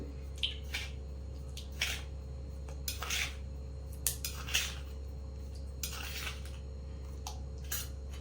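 A spoon clinks against a container in a few scattered taps and scrapes while salt is stirred into water, which swishes faintly, no talking.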